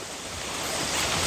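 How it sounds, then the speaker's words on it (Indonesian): Heavy rain pours onto a black tent at a mountain campsite, a dense, steady hiss that swells slightly louder over a brief moment, with no voices. "Ini hujannya makin besar"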